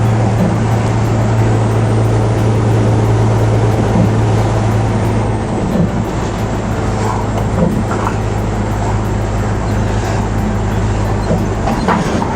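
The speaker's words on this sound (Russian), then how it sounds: "Электричка пустая едет." An electric commuter train in the Russian Far East runs steadily with a low motor hum and rumbling wheels, continuous and fairly loud, with occasional clacks from the rails.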